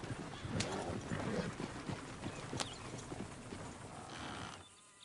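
A horse in the Red Dead Redemption 2 video game clops steadily at close range against a busy outdoor ambience, with a brief sharp whinny cutting through before the scene fades quieter.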